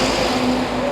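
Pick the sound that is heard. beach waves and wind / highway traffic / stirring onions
highway traffic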